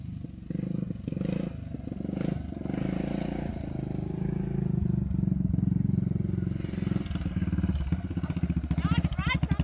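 A 600 ATV engine runs steadily as it putters around on a rural property, a continuous mid-level motor drone with occasional clatter, likely under some talk.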